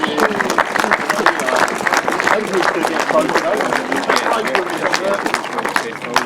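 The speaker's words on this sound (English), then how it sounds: "a big round of applause please for Charley Ridley and Steve Bowles" A crowd at a grasstrack racing prize-giving claps for Charley Ridley and Steve Bowles, loud continuous applause mixed with chatter and shouts from people nearby.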